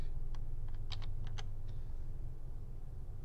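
Clicks of typing on a computer keyboard while working in PowerPoint, a short burst of distinct keystrokes in the first second and a half, then quiet over a steady low hum.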